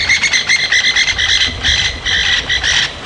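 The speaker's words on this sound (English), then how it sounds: "That was a whole lot of crested francolins." A flock of crested francolins calls loudly and excitedly on an evening safari drive at Djuma Game Reserve, with rapid, rhythmic, harsh chattering bursts repeating close by without pause.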